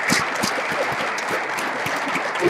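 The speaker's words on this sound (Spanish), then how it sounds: "hay que darle otro aplauso. Un fuerte aplauso." Crowd at a line-following robot contest gives another round of applause, a steady mass of clapping with distinct individual claps scattered through it.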